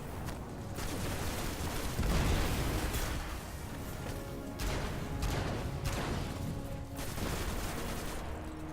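Golden Gun super fire in the video game Destiny 2, a dense barrage of loud gunfire bursts and explosive booms over continuous game noise, with no pause throughout.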